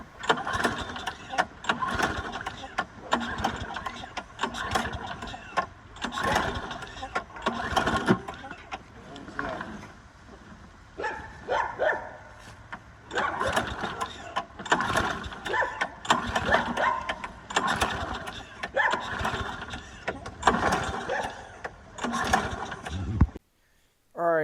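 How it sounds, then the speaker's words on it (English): An old lawn mower engine, drained of stale gas and with a cleaned carburetor, is cranked repeatedly in bursts that fail to catch, with talk throughout. "Alright, so I tried to start the mower and it literally would not start."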